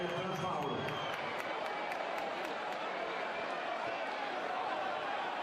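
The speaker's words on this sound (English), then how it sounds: "This incredibly loud crowd making their opinions heard emphatically." Loud arena crowd at a EuroLeague basketball quarterfinal between Reggio Emilia and Zenit, a steady roar with whistles and shouts filling the hall during a referee review, with no single voice standing out.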